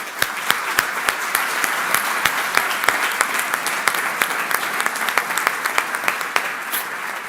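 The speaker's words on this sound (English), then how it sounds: "a big round of applause to you, Alex" A crowd at a startup event breaks into sustained applause, a dense, steady wash of many hands with sharper individual claps standing out, continuing evenly throughout without talk.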